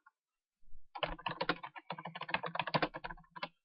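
Rapid keystrokes on a computer keyboard while a title is entered for a new Joomla 1.5 article: close, crisp clicking in quick, uneven bursts with short pauses, heard alone.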